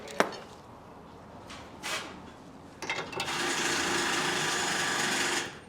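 A wrench tightening a jam nut on a bolt while mounting truck camper anchors on a Ford F250/F350: a few faint scraping clicks, then a steady, close metallic ratcheting rasp lasting several seconds.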